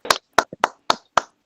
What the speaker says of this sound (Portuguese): darmos aqui uma grande salva de palmas à Nelva